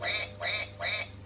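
A bath toy duck quacks three times in an even rhythm, each quack a short, bright, nasal squeak heard close and alone.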